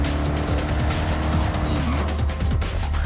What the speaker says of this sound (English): the engine sound for this car in particular, heavy improvement from 4 to 5